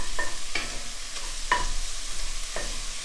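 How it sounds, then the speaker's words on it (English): Ground beef sizzles steadily in a hot pan while a utensil scrapes through it about four times, breaking the meat up in irregular strokes. The sound is close and moderately loud, with no talking. "Start breaking up the beef."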